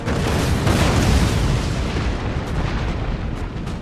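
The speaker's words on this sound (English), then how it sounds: "our artillery is shooting cannon shot at them" Artillery cannon fire on a Total War: Empire battlefield, a dense continuous rumble of booms and crackling blasts, loud and layered with distant thuds throughout.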